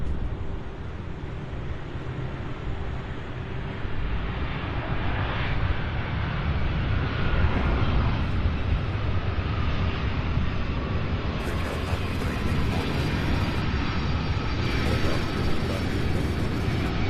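An aircraft lands at Louisville International Airport near the UPS Worldport: a sustained broad roar that builds gradually and holds steady, with wind noise on the microphone, heard at a moderate distance and without voices.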